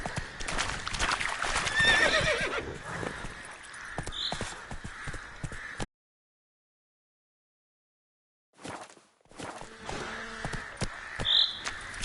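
Roach, Geralt's horse in The Witcher 3, clopping along with hoofbeats and a whinny. A sudden silent gap of a few seconds breaks the sound before the hooves and snorting resume, all near and moderately loud.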